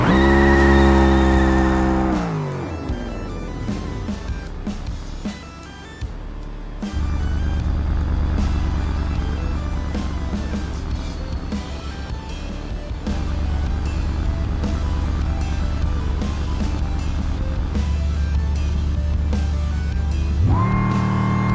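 A supercharged drag car in BeamNG.drive launches with a loud, whining engine roar that holds a steady high-revving drone through the run, then surges again at the end.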